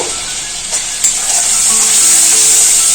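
Spices sizzling in a pan with softened tomato, Kashmiri chilli powder and turmeric: a loud, continuous hissing fry that swells slightly toward the end, with faint scraping from stirring and no voices.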